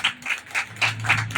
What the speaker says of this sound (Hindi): जोर से ताली करिए